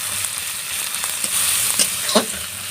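A spatula stirs the contents of a hot pan after turmeric and salt go in, giving a few distinct scraping strokes over an even, moderately loud sizzle.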